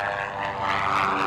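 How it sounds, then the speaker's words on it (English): A Cessna O-2 Skymaster propeller airplane takes off, its engines giving a loud, steady droning roar that swells slightly over a brief moment. "Now watch carefully as the airplane lifts off."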